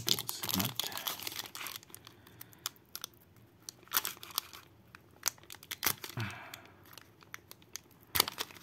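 Crinkly foil wrapper of a Magic: The Gathering collector booster pack being pulled and torn open by hand, with bursts of crackling and crumpling separated by quieter pauses and occasional sharp tearing snaps, close up.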